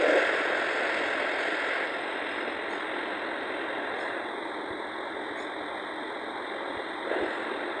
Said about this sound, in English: Falcon 9 has successfully lifted off from Space Launch Complex 40 from the Cape